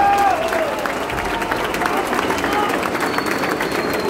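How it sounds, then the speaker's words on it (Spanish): Concert crowd applauding at a live recital in a Buenos Aires theater, continuous dense clapping and cheering across the hall, with a brief tone at the start and crowd noise mixed in. "Le voy a pedir un fuerte aplauso"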